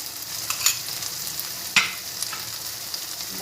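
Pasta fries in oil in a pan while it is stirred, a steady close sizzle with a few sharp scraping clicks from the stirring utensil over about three seconds.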